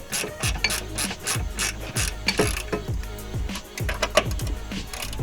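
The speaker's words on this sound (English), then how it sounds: "take that same 10mm socket and tighten all these grommets back all the way in" A 10mm socket on a ratchet tightening grommets while fitting an oil catch can on a G35/350z, rapid rhythmic clicking of the pawl in short repeated bursts, close and crisp.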